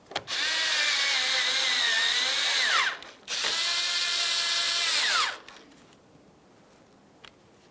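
A power drill snugs 10mm-headed bolts into a 2006-2012 Ford Fusion front bumper cover, two loud sustained whirring runs each ending in a pitch drop as the bolt seats, followed by quiet.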